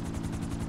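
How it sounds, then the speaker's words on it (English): Aircraft approaching in the video game GTA 5 Online, a steady low rotor-like drone with a rhythmic pulsing throb, loud and continuous through the brief moment. "Aircraft inbound."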